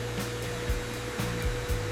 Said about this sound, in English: I vacuum the floor.